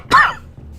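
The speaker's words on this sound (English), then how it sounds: "Sorry for the cough." A single sharp, close cough from one person, brief and loud, followed by quiet.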